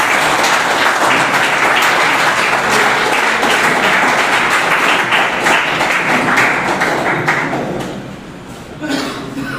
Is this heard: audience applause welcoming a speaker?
yes